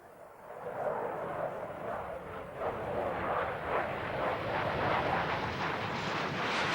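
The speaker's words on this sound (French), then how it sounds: "Avec son seul moteur de propulsion horizontale, l'avion piloté par Smith s'élève dans le ciel" A steady, broad roar from a single horizontal propulsion engine rising in pitch as the aircraft climbs, with some wind noise over the microphone.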